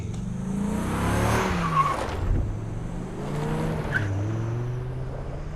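A car accelerates hard with tires squealing and skidding, engine pitch rising and falling through a couple of surges at moderate distance.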